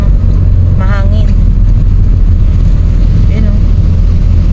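Strong wind of Typhoon Kristine roars steadily and loudly against the microphone along a road, with low rumbling buffeting throughout and brief voices passing under it.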